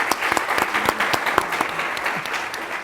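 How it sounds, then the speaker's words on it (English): An audience applauds with a dense spatter of claps, lively at first and gradually thinning, heard up close. "Please give him a big round of applause"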